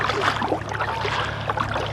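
Intex Challenger K1 inflatable kayak moving across open water, a steady broadband wash of water and paddle splashes with light wind noise, close to the microphone and continuous throughout.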